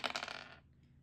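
Dice rolled onto a hard surface during a board game: a short, loud burst of rapid clattering hits that stops abruptly after about half a second, leaving quiet.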